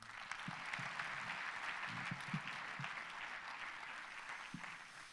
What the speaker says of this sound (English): so applause again for...